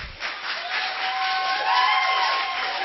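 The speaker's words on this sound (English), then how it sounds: "can you guys please, at this time, just hold your applause for the end, please?" An audience at a school board meeting claps in a sustained, even burst of applause, with a faint tonal hum running beneath the crowd noise.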